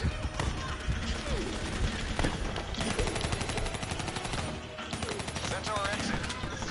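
Rapid automatic gunfire from a weapon in the video game Black Ops 3, loud continuous bursts running throughout with dense crackling shots and game effects layered over it.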